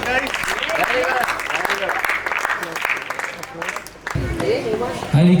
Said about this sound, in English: Round of huge round of applause